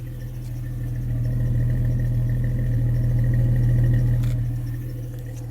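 A Jeep Cherokee XJ, restored and modified, idles steadily up close with a deep, even exhaust rumble and faint clatter, holding constant for several seconds with no voices.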